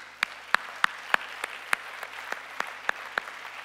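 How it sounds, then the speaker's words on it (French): Clapping during a French-language church service, a sharp, steady beat of about a dozen claps roughly three per second, crisp and close, with no voices over it. "Acclamons pour notre Seigneur Jésus."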